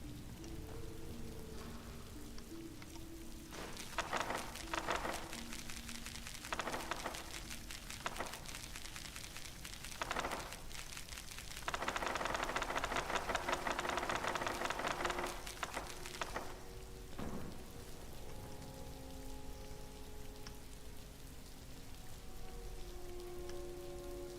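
Steady rain falls in the game world of Skyrim, a soft continuous patter that swells into a heavier downpour for several seconds mid-way before easing back, with occasional brief thumps and tones over the hiss.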